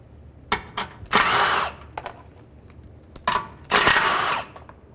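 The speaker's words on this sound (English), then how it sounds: "take these three 10mm bolts out. Just use a 10mm socket." On a 2011-2013 Chrysler 200, a 10mm socket on a power tool backs out 10mm bolts in two loud whirring bursts with quick clicks and rattles between them. No one speaks.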